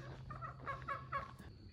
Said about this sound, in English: They got turkeys and chickens.